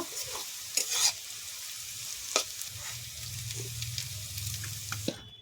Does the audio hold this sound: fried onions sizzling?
yes